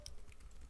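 Fingers type on a computer keyboard in a few quick, faint clicking taps under a second long, soft and close with no talk.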